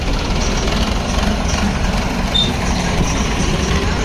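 A Hindustan tractor engine running steadily, a loud continuous rumbling drone without breaks and no voices over it.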